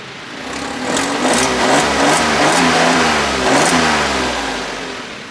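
A car with paddle shifters revs its engine while driving, the loud mid-pitched roar swelling and easing in repeated waves, close and alone without talk.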